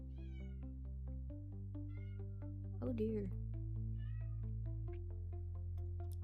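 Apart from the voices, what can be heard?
cat yowling outside a door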